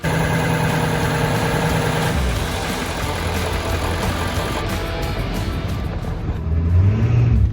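A tuned Ford Powerstroke diesel truck engine running while driving, a loud, continuous low drone that shifts partway through and swells near the end as it pulls harder, with no voices.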